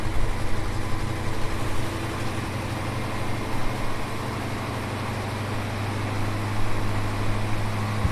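A Holden HK engine idles with a steady, even low hum and faint mechanical texture, smooth with no rattle, unchanging throughout and with no voices.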